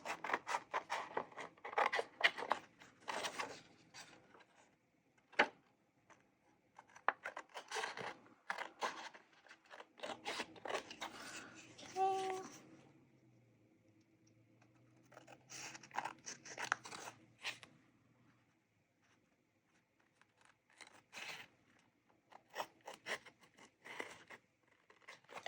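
Paper scissors snipping through thin cereal box cardboard for a junk journal tag, with bursts of crisp cuts and rustling handling of the board, some pauses between, close and fairly quiet.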